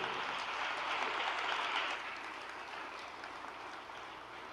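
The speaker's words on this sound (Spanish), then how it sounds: "Denle un aplauso al Señor" A church congregation at a Sunday morning service applauds, a dense, steady wash of many hands clapping that softens partway through but carries on to the end.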